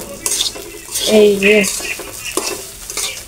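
Khichdi rice frying in a pan is stirred with a metal utensil, scraping and clinking over a steady sizzle, and a person speaks briefly in the middle.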